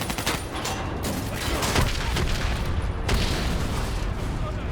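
Heavy sustained gunfire aimed at a VTOL in Call of Duty: Black Ops 3 rattles on loud and dense, with booming impacts layered over the wartime battle din.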